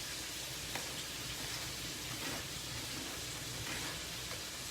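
Onions sautéing in a pan with a steady, dense sizzle that holds constant throughout, close and unbroken, for a lamb chops and raspberry compote dish.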